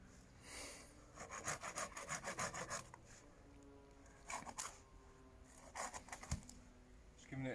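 A wooden pole is trimmed outdoors during bushcraft tree house building, producing bursts of rough, rhythmic rasping strokes with short pauses between them, fairly faint and close.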